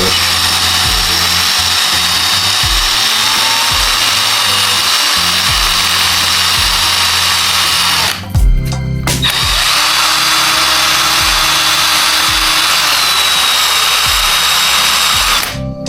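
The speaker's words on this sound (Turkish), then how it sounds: "Onu bir matkap yardımıyla çözeceğiz şu anda." Loud, continuous whine of a power drill grinding into a coated lead fishing sinker, close by, with a brief pause midway before drilling resumes.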